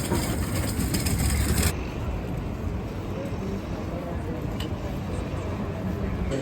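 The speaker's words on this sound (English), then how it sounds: "And we're back on the train." Steady rumble and rushing noise from inside a moving North Jersey Coast Line commuter train, with a louder burst for the first couple of seconds before settling into an even, continuous ride sound.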